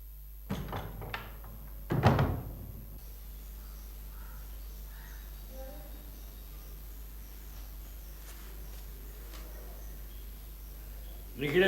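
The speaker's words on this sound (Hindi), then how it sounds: "दरवाजा बंद कर दो" A door is pushed shut indoors, a few knocking thuds and then one firm, close bang, after which the room stays quiet until another short knock near the end.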